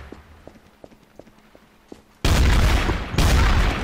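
In Trouble in Terrorist Town, a multiplayer shooter game, quiet footstep-like ticks come first, then a sudden loud burst of rapid gunfire erupts. The burst breaks off briefly and resumes, dense and harsh, close up.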